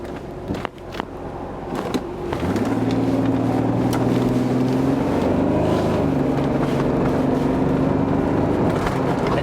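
A Ford Granada V6 engine turns over after a couple of seconds of rustling, then settles into a steady, close, low humming idle that runs uninterrupted to the end.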